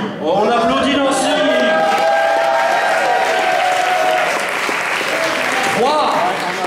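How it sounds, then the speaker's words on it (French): Sustained applause from a slam poetry audience greeting the poet Nancy, loud dense clapping with some cheering throughout, with a few high voices shouting over it. "On applaudit Nancy."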